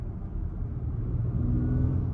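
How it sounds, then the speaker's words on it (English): A 2022 Acura MDX Type-S turbocharged six-cylinder cruises in comfort mode, giving a steady, muted low engine drone and road rumble heard from inside the cabin, with no voices. "Similar engine note, you don't get quite as much of that buzz pumped into the cabin."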